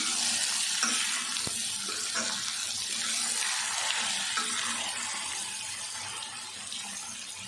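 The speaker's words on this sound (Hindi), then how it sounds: "इसमें गोभी में एक दफ़ा फिर हम इसको फ्राई कर लेते हैं" Cauliflower fries in a karahi with a loud, steady, close hiss of sizzling oil that holds without a break, marked by one brief click.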